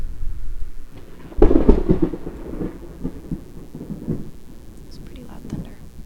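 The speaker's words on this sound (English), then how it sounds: "It's pretty loud thunder." Loud thunder from a sound effect rolls through a quiet room, a deep rumble that swells and lingers for several seconds, with faint tapping on a Five Nights at Freddy's board game and soft whispering underneath.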